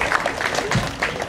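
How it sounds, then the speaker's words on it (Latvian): An audience at a prize draw gives a short burst of applause for a winner, the clapping dense and close with a faint voice underneath. "aplausī Ilzei"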